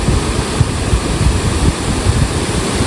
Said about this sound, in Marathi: हा बघा किती सुंदर धबधबा आहे